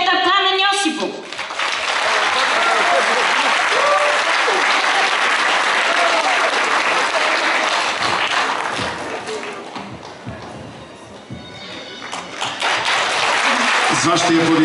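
An audience at a folk trio concert applauds loudly and steadily for many seconds, the dense clapping dipping briefly before swelling again.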